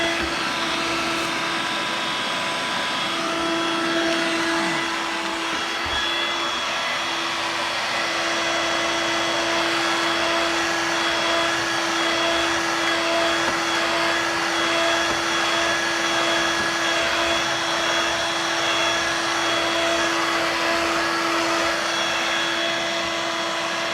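A Dirt Devil Vibe corded bagless stick vacuum runs steadily close by, a loud continuous whine and rushing airflow with a slight pitch shift early on and no talk.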